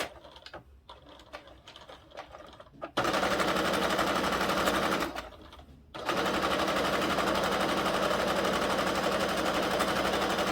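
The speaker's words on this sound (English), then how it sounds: "I'm going to just put a stitch line across the top, 1/4 inch" A sewing machine stitching a 1/4 inch line across a fabric billfold wallet: a few short stuttering starts, then two long, steady, loud runs of rapid stitching separated by a brief pause.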